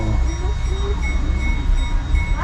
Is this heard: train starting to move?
yes